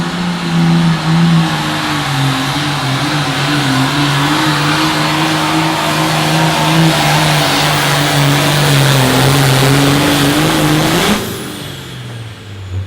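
Pulling tractor at an outlaw tractor pull at a farm event in Britt, Iowa, its engine roaring loud and steady for about eleven seconds at a sustained pitch before cutting back sharply near the end.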